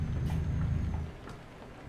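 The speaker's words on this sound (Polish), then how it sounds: "Jeszcze burza w dodatku." In the Euro Truck Simulator 2 driving game, a thunderstorm with rain gives a steady wash of rainfall beneath a low, rolling rumble of thunder that fades after about a second.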